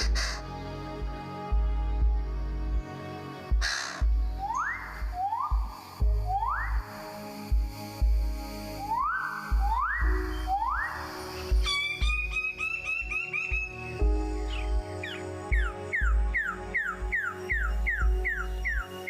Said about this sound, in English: the ones that stand out are the birds of paradise